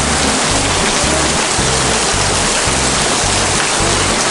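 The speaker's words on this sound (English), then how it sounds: "it's raining like crazy" Loud, dense hiss of heavy rain pouring down without pause, close and constant, at the Hualien sugar refinery in Taiwan.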